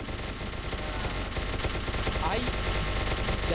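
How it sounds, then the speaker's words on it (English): Rapid automatic gunfire rattles continuously in the SCP: Secret Laboratory video game, dense and fairly loud bursts overlapping without pause across the whole stretch. "What are they shooting at?"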